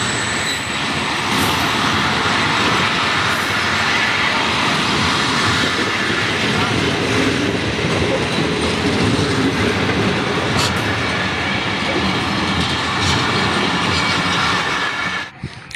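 The 8 Down Tezgam express, a few minutes late, pulls into Raiwind Junction railway station with a loud, continuous rumble of wheels on rails, clattering carriages and occasional wheel squeal close by.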